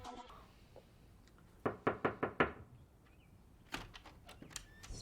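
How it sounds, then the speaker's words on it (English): Knuckles rap on a door in a quick burst of four to five sharp knocks, followed by a few softer scattered taps and faint bird-like chirps against a quiet background. "What's the point of knocking if you're gonna open the door anyway?"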